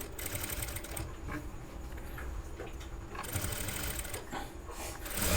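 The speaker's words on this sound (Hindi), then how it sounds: "तो ये हम सिलाई लगा लेंगे।" A sewing machine runs steadily for several seconds as it stitches folded blouse fabric, giving a continuous close mechanical whirr with no pauses.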